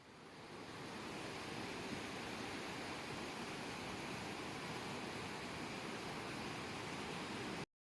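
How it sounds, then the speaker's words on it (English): Muddy floodwater rushing down city streets in Duyun, China, heard as a steady, dense roar of water that fades in and then holds at an even level without a break. "Viral videos on Weibo and X show powerful muddy currents racing down city streets, dragging vehicles along with terrifying force."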